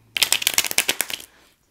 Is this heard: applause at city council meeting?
no